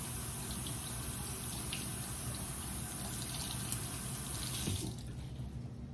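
Kitchen tap water running steadily into a sink while a branch is rinsed, a close continuous splashing gush that cuts off near the end, leaving a quieter room.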